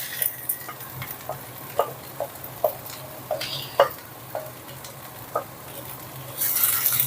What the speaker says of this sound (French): maintenant je vais rajouter les courgettes